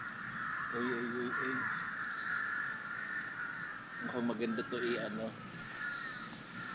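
Crows caw in Lumpini Park in Bangkok, two bursts of harsh repeated calls close by, with a person speaking softly over a steady outdoor background hum.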